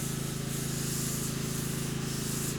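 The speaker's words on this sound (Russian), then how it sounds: "Поэтому сегодня финишная шлифовка." Wooden furniture in a taiga workshop, likely a tabletop, gets its finish sanding with a 600-grit disc: a continuous close rasping hiss with a fast, even rhythm and no talking.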